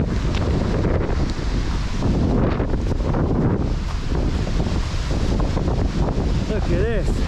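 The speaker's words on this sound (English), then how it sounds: "this wind is just horrendous" Strong wind buffets the microphone in a loud, continuous roar, with a brief voice surfacing near the end.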